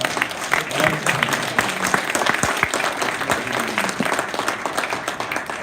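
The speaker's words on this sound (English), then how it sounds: "Can I have a round of applause for all of the" Applause from the audience at a college innovation challenge event, steady dense clapping from a sizeable crowd in a hall, continuous and fairly loud for several seconds with a few sharper claps standing out.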